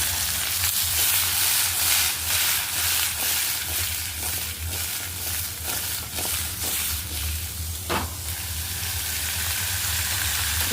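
Boiled flat beans (pandiri chikkudukaya) with chickpeas sizzle steadily in a hot pan, with scraping stirs and a sharp clack near the end, loud and close with no talking.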